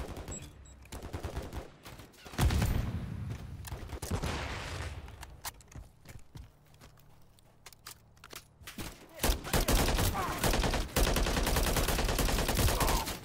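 Gunfire from a high-recoil gun in the Modern Warfare III campaign: bursts of loud, rapid shots mixed with heavier blasts, dense at the start and end with a quieter stretch between.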